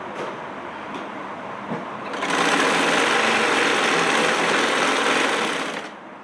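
A sewing machine runs a seam up fabric at home, quieter at first, then stitching steadily and loudly from about two seconds to near the end, with no talking.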